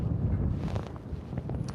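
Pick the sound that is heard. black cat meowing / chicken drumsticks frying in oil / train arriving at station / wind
wind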